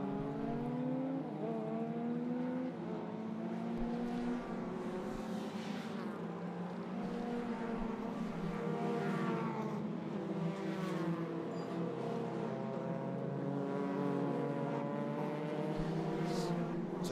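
Race cars at an ICCR 2022 Round 3 Sunday meeting roar around the track, a continuous engine drone with rising revs as a driver gets on the power around the outside, loud and steady throughout without talk.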